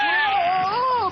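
A dubbed cartoon cat yowls angrily in one loud, wavering, drawn-out caterwaul that bends up and down in pitch, close and alone.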